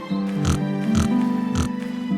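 Cartoon pigs oink in a rhythmic series of four or five close, loud grunts as they play in the mud in front of their house, set against a steady musical drone.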